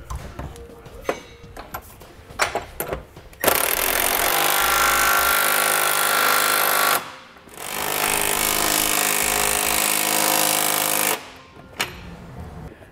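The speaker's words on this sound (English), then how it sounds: "Then we can switch over to a 19 and get our flange nuts tightened down." An impact wrench drives flange nuts with a 19 mm socket while a Curt trailer hitch receiver is mounted on a 2017 Hyundai Santa Fe, two loud sustained hammering bursts of several seconds each after clanking setup noises, close by.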